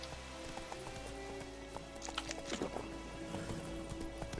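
Hooves of Geralt's horse Roach clip-clopping along in The Witcher 3, a steady galloping rhythm at moderate distance over a faint ambient bed.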